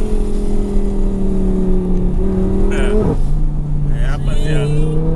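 Audi R8 engine droning loudly from inside the moving car, a steady low hum that briefly rises, dips sharply at a gear change, then settles to a lower pitch, with voices talking over it.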